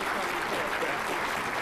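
Audience applause after a formal address, a dense continuous wash of clapping from a large crowd, loud and steady throughout.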